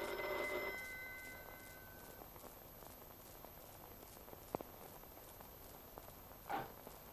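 A telephone bell in an old Hindi film rings once near the start, quietly, then trails off into a hushed room with a few faint taps and a soft thump.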